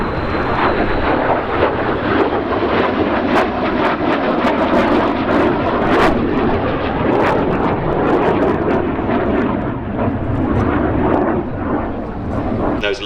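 A MiG-17F jet fighter flying an evening display at the Shuttleworth Summer Airshow gives a loud, continuous roar with gusty wind buffeting and crackling bursts throughout, a narrator's voice faintly mixed beneath it.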